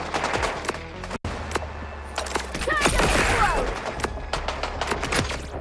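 Shotgun fire in a video game, a rapid string of sharp loud blasts with breaking clatter in between, dense bursts spread across the whole stretch.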